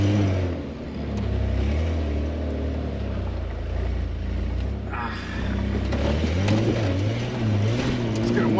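An overland rig called Project Cheapfinder crawls over rocks on the Whipsaw Trail in four-wheel drive, its engine a steady low drone that swells and eases with the throttle, heard close from inside the vehicle.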